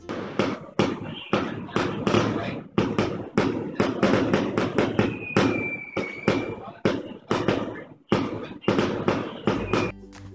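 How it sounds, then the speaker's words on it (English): Firecrackers and fireworks burst in rapid, loud succession in China, a dense irregular volley of sharp bangs with a brief whistling streak rising partway through. "when the Chinese decide to start throwing fireworks for no reason"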